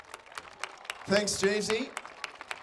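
Crowd applause at the Reclink Community Cup community football event in Hobart: a scattered, crackling patter of clapping runs under someone speaking over the public address, swelling briefly in the middle.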